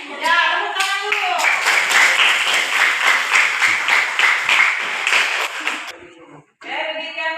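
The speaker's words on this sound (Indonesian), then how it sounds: "Ya, tepuk tangan dulu." A classroom of children claps together at a teacher's prompt, a loud, rapid patter of many hands running for several seconds, with the teacher's voice heard over it before the clapping stops.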